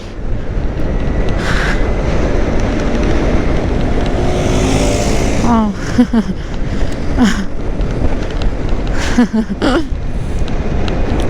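A motorbike engine revs and whines as it passes nearby, its pitch shifting, over a constant roar of wind and road noise.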